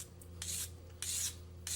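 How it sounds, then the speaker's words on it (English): Rough rasping strokes of 240 grit sandpaper wrapped on a stick, rounding the edges of a handmade pendant; three close, steady strokes with pauses between, over a low background hum. "Sandpaper on a stick, and I'm just going to round off"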